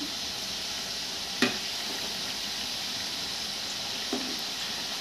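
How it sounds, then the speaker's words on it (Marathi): Balushahi fries gently in oil over a low flame, a steady soft sizzle throughout with a couple of brief clinks or splashes as the pieces are turned. "दोन्ही साईडनी बारीक गॅसवरतीच तळायचे."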